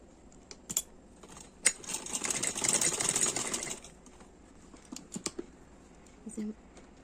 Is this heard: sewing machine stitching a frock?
yes